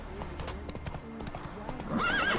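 Rhythmic hoofbeats of a galloping horse in the video game The Witcher 3: Wild Hunt, with a brief whinny and a shout over a musical backdrop.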